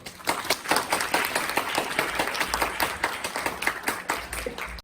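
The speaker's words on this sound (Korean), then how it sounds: "오늘 바쁘신 데 나오셨는데 큰 박수로 모시도록 하겠습니다" An audience at a chapel service claps to welcome a visiting pastor, a steady, fairly close burst of applause that keeps going without a break.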